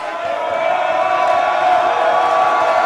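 A basketball crowd in a gym reacts to a missed free throw with a loud, sustained collective roar of shouting and jeering that swells slightly and holds steady for a few seconds.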